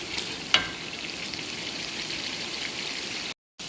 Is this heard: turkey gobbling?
no